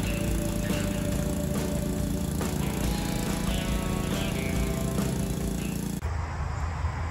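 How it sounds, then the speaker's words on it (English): A Ryobi surface cleaner driven by a pressure washer runs over a sidewalk, giving a steady, loud, unbroken engine-and-spray drone close by for several seconds before the sound drops off near the end. "So we've brought the pressure washer up. We're gonna do mom and dad's sidewalk now."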